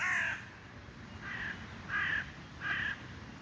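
Crows caw in a short series, one call at the start and then three evenly spaced caws, moderately loud over a steady low outdoor rumble.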